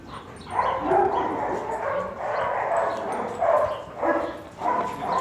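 Several dogs bark and yip in the morning, overlapping bursts rising and falling in a steady run of outdoor canine noise with no one talking.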